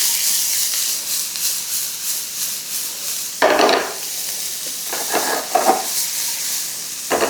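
Finely chopped onion and capsicum tossed in a pan over high heat, a steady soft sizzle with a couple of louder bursts of clattering and scraping as the pan is tossed.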